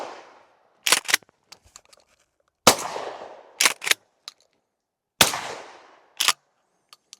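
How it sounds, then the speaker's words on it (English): A suppressed 12 gauge shotgun, a 9-inch PSA 570 fitted with a YHM Victra-12, fires birdshot outdoors: three loud, sharp reports with decaying tails, each followed by quick mechanical clacks of cycling the action. "Kicks like a regular shotgun, I would say. It's a 12 gauge punch"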